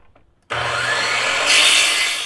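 Saw cutting a 45-degree miter through wooden trim for a radiator cover: one loud, steady cut starting abruptly after a short quiet moment and rising in pitch near the end, heard alone.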